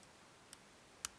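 Faint, sharp clicks from a tubular 7-pin motorcycle padlock being picked with a homemade tension tool, one light tick midway and a louder crisp click near the end, over a quiet background.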